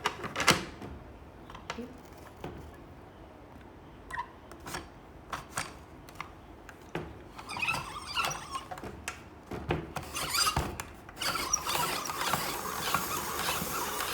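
A handheld spiralizer cuts a vegetable into thin ribbons with irregular clicking, crunching and scraping bursts, close and fairly quiet, growing busier toward the end.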